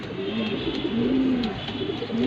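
A pigeon from a big, light-coloured racing pair, released into a cage, gives low, rolling coos close by, repeating in short swells over a steady hum.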